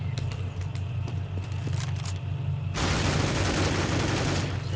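M4 rifle fire in a competitive CS:GO match, heard as rapid, dense bursts of gunshots over game ambience, with a sustained loud fusillade filling the second half; a commentator's voice sits faintly underneath.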